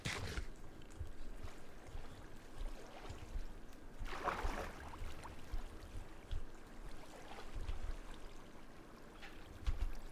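Water flowing in a block-building video game, a soft continuous rushing and trickling stream with a few louder splashy surges, faint and steady throughout.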